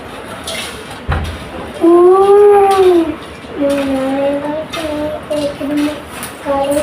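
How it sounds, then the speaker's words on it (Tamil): A dog howls in drawn-out, wavering cries at night, the long rising and falling wails repeating over a few seconds, close and fairly loud above a faint room background. "நாய் கத்துதாண்ட"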